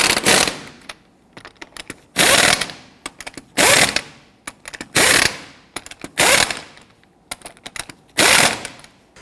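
Lug nuts on a Hummer H3 wheel are snugged down with a power impact tool in rapid, loud rattling bursts, several short runs separated by brief pauses, close by.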